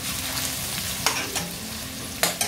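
Green chillies and large chillies stirred as they fry in a pan, a steady low sizzle with a few soft spoon scrapes, close and alone without talk.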